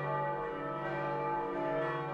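Church bells ring as a sustained, resonant metallic hum with many lingering overtones, steady and moderately loud and heard alone.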